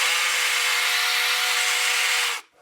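Small electric motor of a toy RC tugboat whirring loudly out of water, a steady high-pitched buzz close by that cuts off abruptly at the end.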